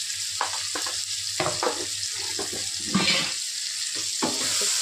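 Dal khichdi being stirred in a pan with salt, garam masala, coriander powder, turmeric and red chilli, giving irregular scraping clicks and soft sizzling over a steady low hum, fairly close and with no talking.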